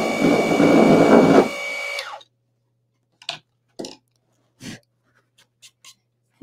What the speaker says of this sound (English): let me see if my sander can help me out